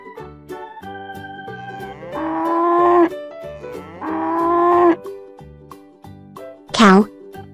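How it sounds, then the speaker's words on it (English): A farm cow gives two long, loud moos over a light musical backing, followed by a brief higher call near the end. "Cow."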